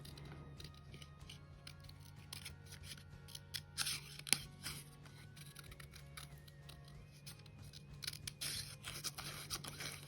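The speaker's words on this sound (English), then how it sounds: "I'm not very good at fussy cutting either, but just try your best" Scissors snip paper while fussy cutting out a custom ephemera piece, a run of small, irregular close-up clicks and snips over a steady low hum.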